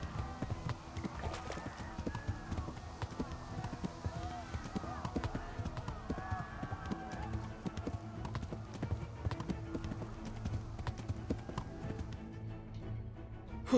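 Horse hooves in the video game Kingdom Come: Deliverance clip-clop in a steady rhythmic pattern throughout, moderately close, while someone talks over the sound.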